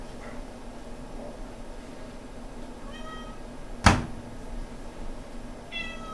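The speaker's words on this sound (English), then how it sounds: "Meow. Meow." A cat gives a couple of faint, short meows in a quiet room, and a single sharp knock sounds in between.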